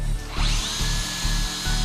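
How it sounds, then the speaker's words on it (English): A power drill bores a hole through a tennis ball for a DIY dog treat toy, giving a loud, close, steady motor whine with rhythmic grinding pulses as the bit bites in. "Take the drill very carefully, drill a hole on either side of the tennis ball."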